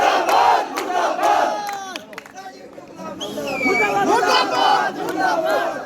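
A crowd at a political gathering chants protest slogans against Rajiv Shukla, loud massed voices shouting in rhythmic bursts with a brief lull in the middle before the chanting surges again.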